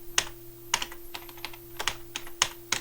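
Keys on a computer keyboard clack in quick, irregular bursts of single strokes, close and fairly quiet, with no voices.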